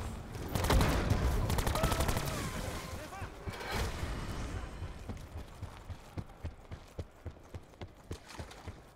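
Rapid bursts of Skorpion submachine-gun fire in Call of Duty Black Ops 4 Zombies, loud and dense at first, then thinning into a string of sharp, evenly spaced single shots.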